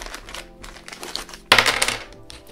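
Survival kit pulled out of a plastic bag, a sudden loud crinkling rustle of plastic packaging at close range following quieter handling noises.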